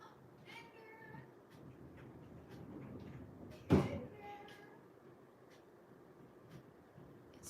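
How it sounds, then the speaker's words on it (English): A house cat meows several times indoors, with soft, fairly faint calls spread across the clip and a single louder knock or thump partway through. "It's Ender, our cat. He came upstairs."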